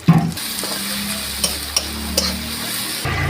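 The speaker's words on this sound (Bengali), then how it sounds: "যতক্ষণ আদা রসুনের গ্যাস গন্ধটা যাবে ততক্ষণ এইভাবে ভেজে নেবো" Ginger garlic paste fries in a pan with a loud, even sizzle, marked by a few quick clicks and scrapes from stirring before the hiss shifts near the end.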